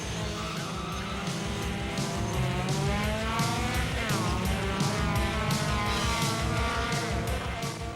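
A pack of race cars roars off the line together at the start of a race, engines revving hard with rising and overlapping tones, loud and continuous throughout.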